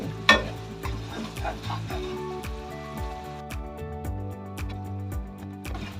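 Melted sugar is stirred in a pan while preparing Thai sweet-salty braised pork, giving a steady close sizzle with repeated scraping strokes of the spoon and a sharp clack near the start, with no talking.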